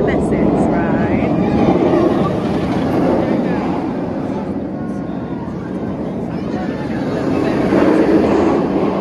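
The Nemesis roller coaster at Alton Towers roars past, a loud continuous rumble of wheels on track that swells and eases, with voices faintly mixed in.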